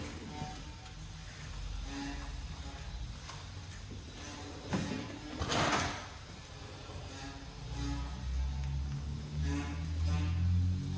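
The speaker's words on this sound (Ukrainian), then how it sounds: "Бачите, дверка фіксується у трьох положеннях." A front car door on an Opel Astra H or Zafira B swings and clicks into its three detent stops several times, with short mechanical thuds and a louder clunk near the middle, close by.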